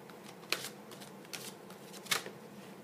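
A deck of therapy cards being shuffled, with a few soft riffling bursts against a quiet background and no talking.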